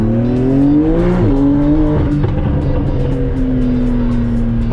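A Porsche 911 driven hard on a race track with hot tires, its engine roaring loud and close, pitch climbing through the gears with brief dips at the shifts.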